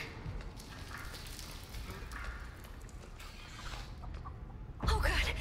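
A chicken clucks in the Texas Chain Saw Massacre video game, a low, busy fowl chatter running steadily under game ambience, with a louder, brighter burst of activity near the end.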